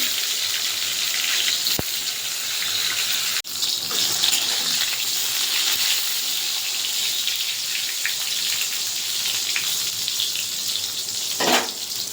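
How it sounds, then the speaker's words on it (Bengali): Eggplant pieces frying in oil give a steady, loud, close sizzle, a dense hiss with occasional sharper crackles and clinks, continuing without any talking. "বেগুনটা ভেজে নেব"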